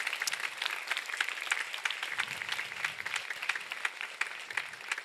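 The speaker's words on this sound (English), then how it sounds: "a huge round of applause to all of you there" An audience gives a round of applause for performers and Antakshari singers at an event, a steady patter of many hands clapping at moderate distance, fairly quiet and continuous with almost no talk.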